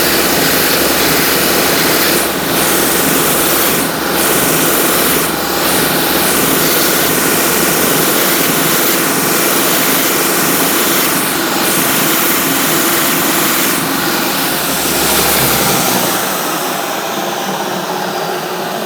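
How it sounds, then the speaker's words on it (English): A power sander grinds at wooden bookshelf feet with a loud, steady, close whine that holds for most of the time before cutting off near the end. "I'm going to go over on the sander and try to perfectly sand it to that line"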